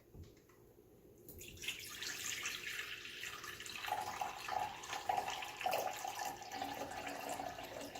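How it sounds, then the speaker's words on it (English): Vinegar pours into a measuring container, a steady liquid stream that starts after a brief quiet moment and keeps trickling and splashing close by for several seconds. "The first step is to measure out 350 milliliters of vinegar."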